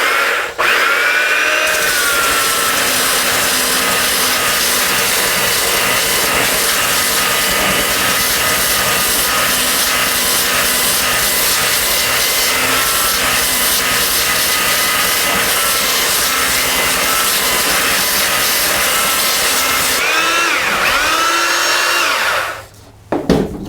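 Steady, loud abrasive rasp of 175 grit sandpaper worked back and forth across a flat wooden board, running continuously for most of the stretch before stopping near the end.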